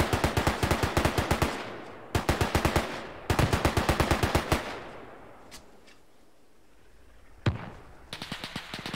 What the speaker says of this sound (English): The mortar's firing.